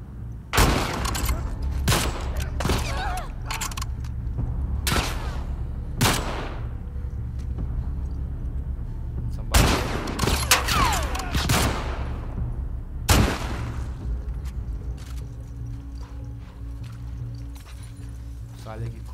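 Bursts of gunfire in The Last of Us Part II, loud close shots in irregular clusters with pauses between, some rapid volleys, with someone talking over parts of it.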